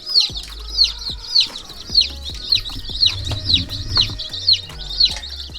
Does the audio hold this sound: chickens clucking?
yes